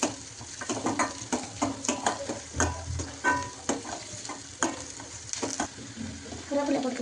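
Onions sauté in oil in a pan for muttai kulambu, giving a steady sizzle with frequent clinks and scrapes of a spoon stirring, close and moderately loud, with no talking.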